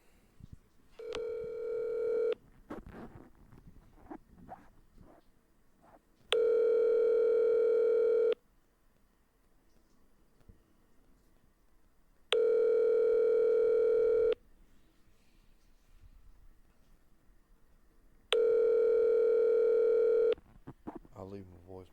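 An outgoing phone call to a 706 area code number rings out with four evenly spaced ringback tones, each about two seconds long and repeating every six seconds, with faint room noise in the gaps.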